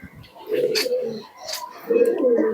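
Pigeons cooing close by, a few soft throaty coos in two bursts with brief higher chirps between them, against a quiet background.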